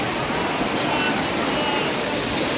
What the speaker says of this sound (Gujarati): ફૂલ સ્પીડમાં પાણી આગળ જાય છે.